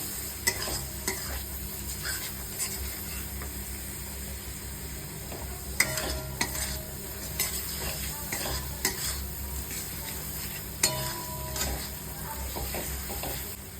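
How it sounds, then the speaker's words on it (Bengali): Spices fry with turmeric and chili powder in a pan for a red chicken curry: a constant close sizzle under a low background hum, punctuated by scattered sharp spoon-on-pan scrapes and clinks. "একটু ভালো করে ভাজা ভাজা করে নেব মশলাগুলো"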